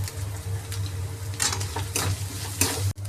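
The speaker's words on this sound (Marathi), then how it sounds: "सुकट चांगली तेलामध्ये परतून झालेली, आता मी हळद घालते" Dried shrimp (sukat) fries in oil in a pan as turmeric goes in, giving a steady low sizzle with soft stirring scrapes and a brief pause near the end, close by and with no talking.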